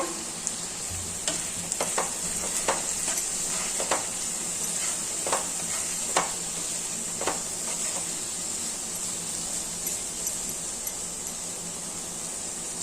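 Chopped tomatoes and spices fry in a pan, giving a steady close sizzle broken by repeated sharp scrapes of a spoon stirring the mixture, with no talking.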